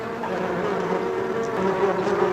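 A dense, continuous buzz of many honey bees swarming at their hive, moderately loud and even throughout, with no talking.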